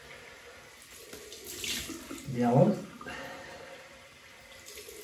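Cold water runs from a bathroom tap for a rinse during a wet shave with a stainless steel razor, a short rushing gush that swells and fades. Someone speaks briefly over it.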